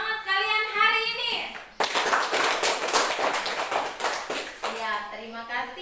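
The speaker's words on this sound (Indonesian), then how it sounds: "Beri tepuk tangan yang meriah untuk semangat kalian hari ini." Schoolchildren in a classroom break into a burst of lively, dense clapping lasting a few seconds, with voices speaking and chanting just before and after the applause.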